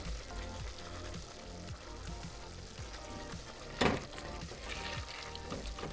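A flavorful sauce cooks in a pan with a soft, steady sizzle and light bubbling. One sharp clatter sounds midway, and no one speaks.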